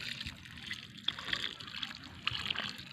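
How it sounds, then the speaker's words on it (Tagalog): Water poured onto fresh soil in a plant pot, a steady soft trickling stream running close by for the whole stretch, with a few brief splashy bursts along the way. "So buhusan na natin ngayon ng tubig to."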